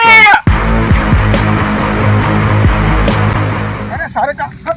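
Goat bleating close by in a rural village setting, a loud wavering cry that fills most of the clip, with people talking around it.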